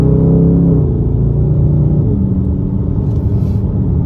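A car driving fast on the road. A loud, close, steady low engine and road rumble runs throughout with a slight shift in pitch partway through, and no talking.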